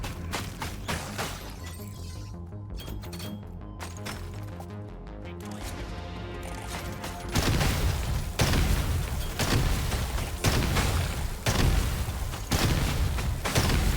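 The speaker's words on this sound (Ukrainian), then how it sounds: "Це замало вибухів." Rapid bursts of blasts and crashes from cryo grenades rattle through the clip in the video game Deep Rock Galactic: Survivor, growing denser and louder in the second half, with music underneath.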